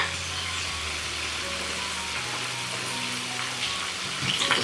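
Food frying in a pan of hot oil, a steady dense hiss and bubbling sizzle running throughout at a constant moderate level, close by and without talk.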